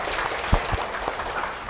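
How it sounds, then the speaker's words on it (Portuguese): Brief audience applause at a community gathering, a short burst of scattered clapping with a few distinct claps, moderately loud. "uma salva de palmas para eles novamente"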